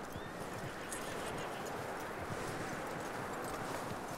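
Steady, dense clip-clop of horse hooves on a hard surface in the video game Red Dead Redemption, continuous and fairly close, with a faint whinny-like sound near the start.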